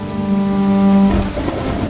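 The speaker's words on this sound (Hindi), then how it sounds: "बारिश फिर शुरू हो जाती है।" Rain and thunder in an animated story about a poor farmer. A steady tonal hum gives way to a deep rumbling roll of thunder over a wash of rain, fairly loud and with no voices.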